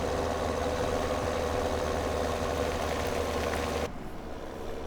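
A tractor engine idles steadily in Farming Simulator 2017, a continuous low rumble with a throbbing pulse and broad hiss that holds level, then drops abruptly and becomes duller near the end.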